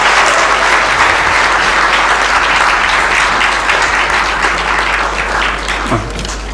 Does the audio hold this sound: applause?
yes